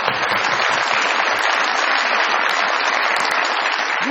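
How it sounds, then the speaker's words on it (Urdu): A studio audience at a Pakistani TV comedy show applauds in a loud, dense, continuous burst of clapping that holds steady throughout, close and unbroken. "بہت ساری تالیاں ملاحل کے لیے جی"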